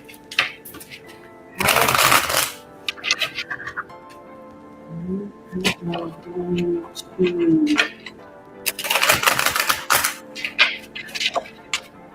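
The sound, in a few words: shuffling tarot cards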